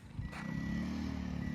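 A brand new 2023 Icebear Trifect 150cc scooter engine gets throttle, a short climb into a steady, mid-loud buzzing drone up close.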